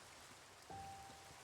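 Steady rain falling in Minecraft, a faint, even hiss with a brief thin tone partway through, no voices.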